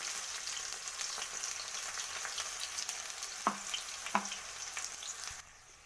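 Onion, ginger and garlic paste fries in a pan for canteen-style ghugni, making a steady close sizzle with a couple of soft utensil taps before it drops off near the end.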